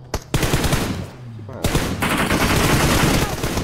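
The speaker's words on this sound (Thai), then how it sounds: "เฮ้ยมันยิงบอยกันอยู" Dense bursts of rapid automatic gunfire from a shooter video game, loud and continuous with a short lull partway through, sharp cracks layered over a busy game soundscape.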